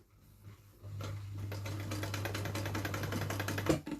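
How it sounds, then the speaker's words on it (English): A sewing machine stitches across a bag being sewn with the Butler zip method, a steady close mechanical whir running for about three seconds after a brief pause, stopping abruptly near the end. "drop the foot back down again, and sew over it"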